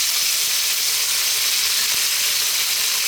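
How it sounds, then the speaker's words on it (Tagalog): Onion and tomato sauté in a pan for ampalaya with corned beef, giving a steady, even sizzle and hiss throughout with no talk. "bali nagisa na natin yung ating kamatis at sibuyas"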